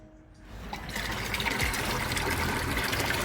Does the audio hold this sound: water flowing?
yes